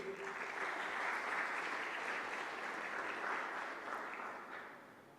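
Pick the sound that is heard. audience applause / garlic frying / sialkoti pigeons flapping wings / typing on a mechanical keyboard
audience applause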